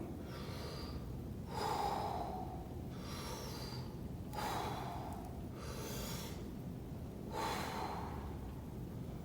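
Slow deep breathing during a free-weights workout, four or five long audible inhales and exhales in an even rhythm, close and fairly quiet, with no talking.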